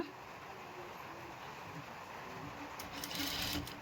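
A sewing machine stitches a princess-cut blouse in a steady, continuous whir at moderate volume, with a brief rise in speed near the end.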